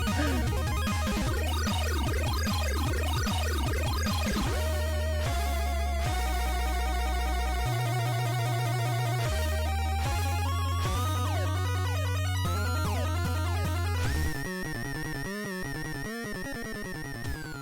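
Chiptune soundtrack from the 1990 NES game Silver Surfer, a fast solo section of rapid arpeggiated square-wave notes over pulsing bass that shifts in pitch, ending in a busier, brighter passage, with no voices.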